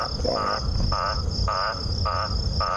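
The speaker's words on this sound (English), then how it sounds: "it sounds like an eastern olive toad" An eastern olive toad calls in a rapid repeated pulsing trill at dusk in the African bush, steady rhythmic bursts about every half second over a constant insect drone and low vehicle rumble.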